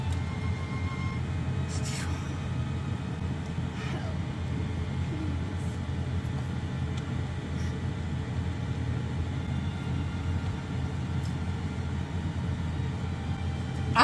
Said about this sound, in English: We've got the heater on, which is what that noise is.